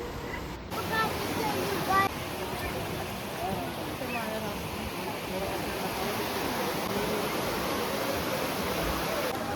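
Tiger Waterfall in Chakrata, Uttarakhand pours steadily as a constant mid-distance rush of falling water, with a brief knock and a few faint voices near the start.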